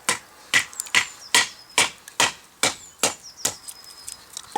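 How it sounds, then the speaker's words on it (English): A Fallkniven F1 survival knife is driven through a piece of wood with a wooden batten, giving about ten sharp, evenly spaced knocks close up that grow lighter toward the end. "Just take a bit of wood, let's see, use a wee batten here, and just watch this go through like butter"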